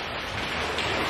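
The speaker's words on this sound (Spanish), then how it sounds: "¡Madre mía, cómo llueve! Está lloviendo a mares." Heavy downpour during a flooding storm, a dense, steady broadband hiss of rain pouring down close by, with no talking over it.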